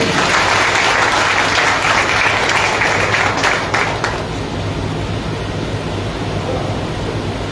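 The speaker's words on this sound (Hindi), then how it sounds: "आप सभी लोगों की तरफ से राष्ट्रपिता ज्योतिबा फूले और माता सावित्रीबाई फूले के सम्मान में एक जोरदार तालियां होनी चाहिए" Loud, sustained applause from a large audience at a public gathering honouring Jyotiba and Savitribai Phule, dense clapping that stays strong, then eases slightly after about four seconds.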